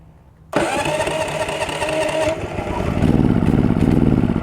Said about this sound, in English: So we're gonna try to start this thing off of the electric start.